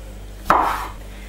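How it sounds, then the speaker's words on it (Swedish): A single crisp knife chop slices through a cherry tomato on a cutting board, one short close thud with a brief wet crunch, alone in a quiet kitchen. "skär tomaterna i halvor"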